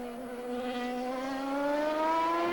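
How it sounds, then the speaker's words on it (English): A CART open-wheel race car at the Elkhart Lake road course in the 2000 season: a loud, steady engine whine that climbs smoothly in pitch as it accelerates, with no clear break for a gear shift. "Listen very closely to that engine, to the gear shifts"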